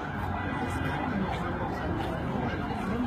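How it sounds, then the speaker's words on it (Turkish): An ambulance siren arrives at a street protest, its wail faint and partly buried in a dense crowd murmur with voices throughout. "Ambulans geldi herhalde."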